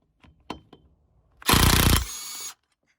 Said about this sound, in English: It's a trusty old impact gun. Snap on.